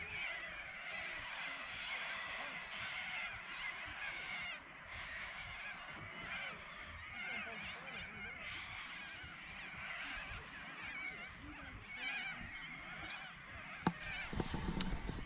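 Many birds settling to roost at dusk in outback Birdsville, Queensland, keep up a faint, continuous chorus of honks, caws and chatter from a distance, with a brief louder knock near the end.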